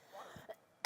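A single short, sharp cough bursts out at the end after a stretch of faint, murmured sounds.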